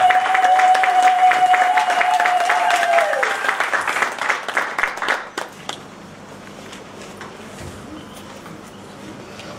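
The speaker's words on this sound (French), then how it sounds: "Veuillez applaudir s'il vous plaît." A conference audience at a product exhibition claps together in a dense burst that thins into scattered claps and fades after about five seconds, leaving quiet room tone, with faint voices underneath.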